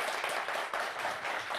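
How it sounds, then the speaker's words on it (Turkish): A studio audience at a Turkish television show claps in a brief, dense burst, a continuous, fairly loud wash of many hands with no pause. "Daha kuvvetli bir alkış alabilir miyim?"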